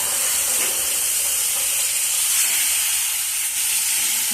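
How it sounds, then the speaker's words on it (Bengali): Batter for a vegetable paratha hitting a hot oiled kadai, giving a loud, continuous, close hissing sizzle that holds steady throughout. "দেখো এবার কড়াইতে ব্যাটারটা দিয়ে দিচ্ছি।"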